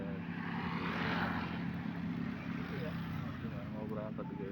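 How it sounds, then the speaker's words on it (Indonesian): Garuda airliner at a Jakarta airport preparing to depart, its engines giving a steady, fairly loud roaring hum throughout while a person talks nearby. "Ini pesawat Garuda nih. Mau berangkat."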